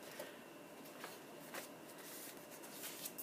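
Sheets of vintage paper rustle and crinkle softly as they are handled up close, with a few brief crisp flicks standing out against a quiet room.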